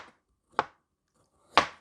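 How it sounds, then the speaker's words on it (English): Onion is sliced by knife on a board, giving two crisp, separate cutting thuds about a second apart in an otherwise quiet room. "And I can slice."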